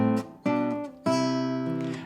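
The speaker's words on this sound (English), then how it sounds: "how to do the same kind of a bass run or harmonized run, fingerstyle, to connect 2 chords together, but now it's in 3/4 time" A fingerstyle guitar plays a bass run connecting chords in 3/4 time, three strong plucked attacks ringing out clearly and up close with no other sound.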